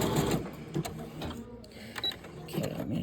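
A sewing machine stitches a bartack zigzag, producing a rapid, close mechanical chatter that rises and falls in short bursts with brief lulls between.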